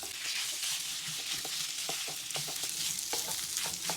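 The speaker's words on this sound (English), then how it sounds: "Pork starting to brown. Just keeping it stir fried" Pork sizzles steadily in a hot pan while a utensil scrapes and stirs it in short, irregular strokes, close and continuous.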